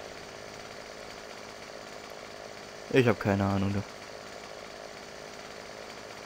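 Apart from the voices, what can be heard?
chainsaw cutting trees in video game Farming Simulator 15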